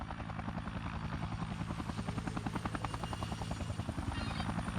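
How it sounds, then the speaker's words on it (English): A helicopter in the Dead Rising remaster video game, its rotor thumping in a steady, fast rhythm over an engine drone, moderately loud and continuous with no talk. "That's my helicopter."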